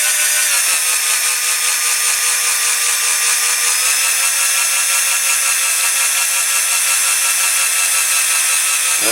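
A drill fitted with a 2.5mm bit runs steadily while restoring a Dinky Toys MG Midget die-cast model, a continuous high-pitched whine that stays loud and even throughout with no talking.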